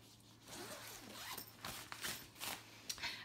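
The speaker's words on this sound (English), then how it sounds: "So on this side, where it zips up like this" A zipper runs along the side of an expandable carry-on suitcase, several close raspy pulls in short strokes, quiet and alone without talk.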